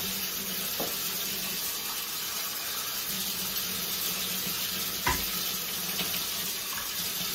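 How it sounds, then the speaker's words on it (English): Water pours steadily from a tap into a pot of rice on the stove, a continuous close rushing flow with a light sizzle and a few small clunks. "I'm going to add some water to it"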